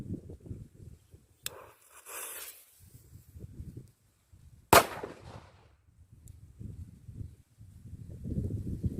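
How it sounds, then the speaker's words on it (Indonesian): A ball firecracker going off in a single sharp, loud bang partway through, after an earlier crackling hiss of the fuse, with low background rumble and handling noise around it. "Ini dia petasan bola"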